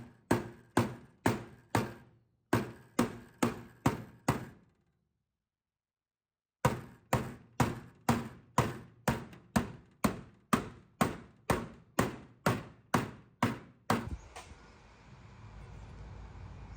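A hammer taps a high spot on a Holden Torana hatch's steel body panel against a dolly held behind a style line: rapid, evenly spaced metallic knocks in bursts with a short pause, close and alone, ending in a hiss of noise.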